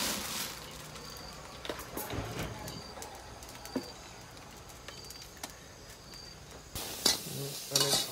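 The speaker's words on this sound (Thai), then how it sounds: "คั่วพริกหอมกระเทียมนะครับเพื่อจะไปตำใส่น้ำพริกปลาร้า" Chilies, shallots and garlic dry-roasting in a pan for fermented fish chili paste, a soft steady sizzle and rustle under scattered scraping stirs, with birds chirping faintly outdoors and a louder clatter near the end.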